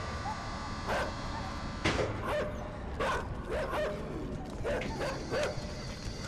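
Repeated sharp barks from guard dogs in the video game INSIDE, bursts spaced about a second apart, loud and near against a constant low background hum.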